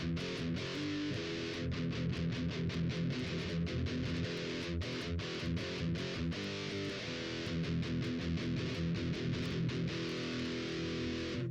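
Electric guitar driven through a Musiclily Crunch Distortion pedal, with loud, continuous crunchy riffing and rhythmic chugging strums that keep going without a break.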